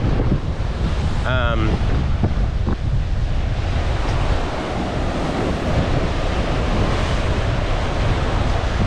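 Energetic ocean surf rolls in steadily at Prachuap Khiri Khan beach, a dense roar of breaking waves under heavy, buffeting wind noise on the microphone, with a faint distant tone briefly rising early on.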